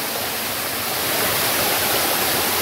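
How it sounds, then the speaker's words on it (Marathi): The Navlai waterfall pours nearby over moss-covered rocks with a loud, unbroken hiss and rumble that swells a little partway through and stays alone without any voices. "हा धबधबा."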